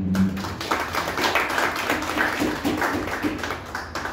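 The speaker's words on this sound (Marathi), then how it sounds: "टाळ्या वाजून सगळ्यांनी." Audience at a meeting of a service organisation clapping in a sustained round of applause, with dense, irregular hand claps at moderate loudness throughout.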